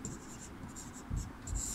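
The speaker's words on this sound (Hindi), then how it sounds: "तो यहाँ पे हम लोग पहला वाला विकल्प लिखेंगे साइना।" Pen writing an answer on paper during a Class VIII Sanskrit lesson, a continuous close scratching with small strokes, under faint background hiss.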